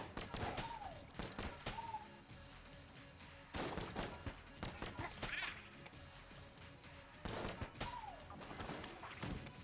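Rapid bursts of video-game gunfire from Enter the Gungeon, sharp repeated shots in clusters with brief gaps, loud and close, mixed with game effects and chiming pickup tones.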